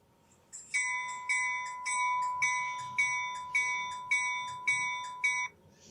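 Sound-equipped Rapido H16-44 model train locomotive ringing its bell: eight even, bright clangs in steady rhythm, close and clear, then stopping.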